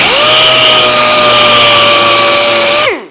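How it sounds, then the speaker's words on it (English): A power sander grinds off a small burr on a Model A roadster windshield piece, giving a loud, steady high whine that holds for about three seconds before spinning down at the end. "I'm gonna hit it with the sander one more time"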